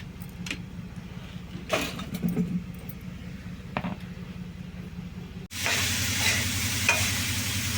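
Bitter gourd pieces frying in a pan are stirred, giving scraping clatter over a steady sizzle, then the frying hiss swells loud and continuous near the end; no talking.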